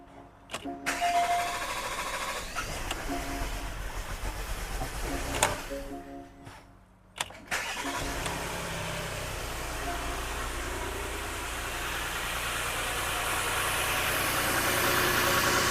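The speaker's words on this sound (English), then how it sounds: "I'm gonna do a first start" A 2011 Porsche Cayenne 3.6 VR6 engine cranks with quick starter whirs, catches after a short pause, then settles into a steady, close idle that continues to the end.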